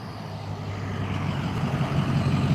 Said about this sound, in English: Was that a diesel truck?